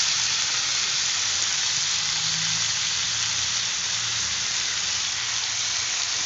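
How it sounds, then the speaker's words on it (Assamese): Chopped ginger, garlic, chili and tomato fry in a hot pan, making a steady, even sizzle and hiss that carries on without pause and without any voices. "এইখিনি অকণমান ভাজিম"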